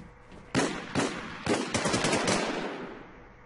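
Gunfire in an online shooter game: several separate bursts of automatic fire, some sharp and close, others overlapping in quick volleys, each fading into a short echo, with no talking.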